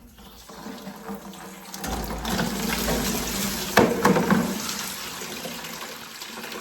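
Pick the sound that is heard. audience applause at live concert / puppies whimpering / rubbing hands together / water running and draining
water running and draining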